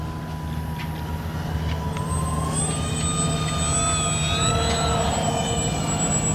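X-Fly Twin Otter 1800mm RC model plane flying, its twin electric motors giving a steady whining drone with rising and shifting pitch tones as throttle changes, continuous and fairly loud throughout.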